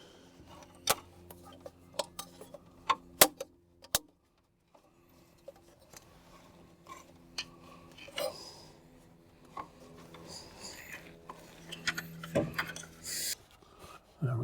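Aftermarket 7-inch head unit radio being fitted into the cut-out dashboard of an old van, heard as scattered close clicks, taps, rubs and plastic knocks in an irregular rhythm with quiet gaps.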